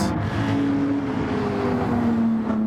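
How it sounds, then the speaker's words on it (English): A Honda NSX race car in a sim-racing league round at Spa-Francorchamps, its engine holding a steady sustained drone with a slowly rising and falling pitch, loud and continuous throughout. "Also very nice sound of the NSX."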